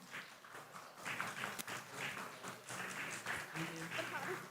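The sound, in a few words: audience applause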